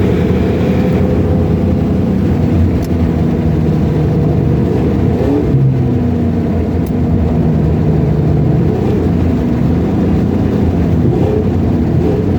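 A 1997 Ford Mustang GT V8 revving loudly in drive without shifting, with a deep, sustained engine drone and rising and falling pitch sweeps, close and continuous.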